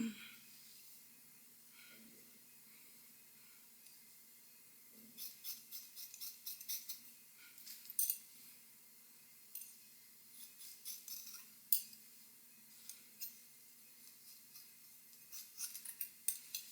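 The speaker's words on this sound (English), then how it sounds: "And just open and close my scissors down." Scissors snip in short irregular bursts while cutting layers into a lace wig, faint close clicks alone with no talk.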